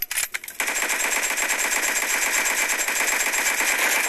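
Rapid, sustained machine gun fire from a video game rattles on loudly, preceded by a few brief scattered shots.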